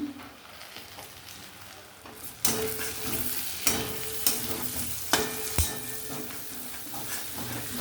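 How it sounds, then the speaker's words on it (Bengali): Tomato slices dropping into hot oil with ginger and garlic for a banana-flower prawn curry: a quiet sizzle that jumps louder partway through, then steady frying with spatula knocks and scrapes. "টমেটোর স্লাইসটা দিয়ে দিলাম"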